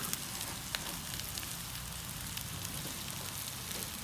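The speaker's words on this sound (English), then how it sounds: "we're going to turn them back over for another quick sear. Getting brown over there." Sous vide top round steak, London broil, sears in a hot pan, giving off a steady, even sizzle with no one talking.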